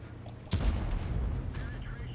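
A single heavy tank-cannon shot from a light tank in an online tank battle game, one sharp loud boom followed by a rumbling tail and a fainter second report, over low engine drone.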